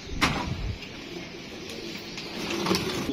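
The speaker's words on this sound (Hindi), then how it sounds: "ये जी देखने 4 कबूतर बैठ चुके हैं" Pigeons coo on a rooftop loft where four birds have settled, soft low repeated calls mixed with a few flutters and background noise.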